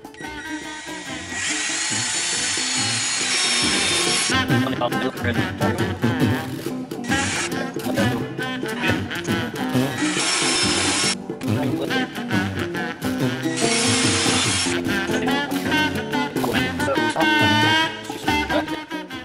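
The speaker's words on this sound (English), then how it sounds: "went ahead and drilled the first one, worked out good" Power drill boring holes into a wood cookie wall shelf, heard as several loud whining bursts of drilling with steady motor hum between them, close up and with no talk.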